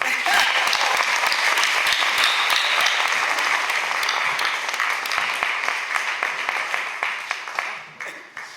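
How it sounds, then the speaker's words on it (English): A crowd applauds loudly and steadily, dense clapping that holds for several seconds before tapering off toward the end. "Let's give her another round of applause."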